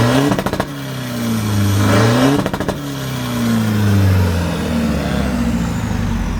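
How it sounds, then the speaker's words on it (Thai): A 2018–2019 Honda New Sonic-style six-speed motorcycle with a freshly fitted aftermarket exhaust and remapped ECU, revved hard in loud repeated blips with crackling cut-offs, close and alone. "ลงท่อมาเรียบร้อยฟังเสียงกัน"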